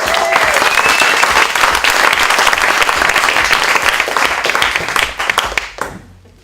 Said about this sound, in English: how about a big round of applause for Al Haas?